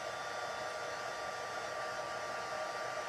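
Heat embossing tool blowing hot air onto a card, producing a steady, close whirring fan hiss that stays even throughout with no speech.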